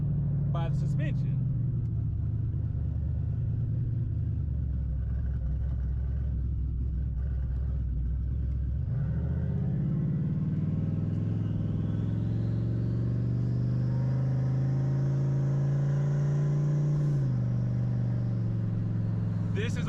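A Ford SN95 Mustang on 20-inch wheels rolls over a bumpy road, giving a steady low cabin rumble with engine and road noise throughout, shifting in tone partway through, with a person talking over it.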